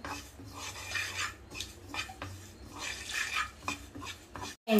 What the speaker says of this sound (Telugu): వేడి కానీ నువ్వులు వేయించుకోవాలండి.